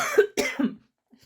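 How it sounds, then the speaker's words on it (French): Two quick, close coughs from a woman who has been coughing easily since an illness, followed by a short throaty tail and then silence. "Depuis que j'ai été malade en février-mars, je tousse facilement"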